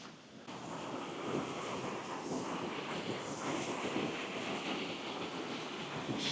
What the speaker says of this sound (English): It's still a very busy river.